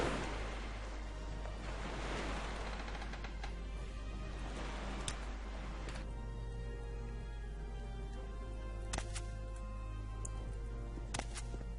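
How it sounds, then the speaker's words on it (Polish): Water waves in the video game Morrowind wash steadily as a soft, continuous surf with a few faint ticks on top, and no talking. "dlaczego fale wody mnie denerwują"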